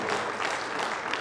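Clapping from an audience at a public event with India's finance minister, Nirmala Sitharaman: a thick, continuous burst of many hands at an even, fairly loud level across the whole stretch, with no speech over it.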